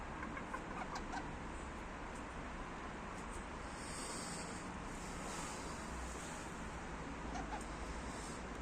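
Rooster and hens of the world's smallest chicken breed clucking outdoors over a steady wash of wind or water noise, the birds faint and intermittent rather than prominent.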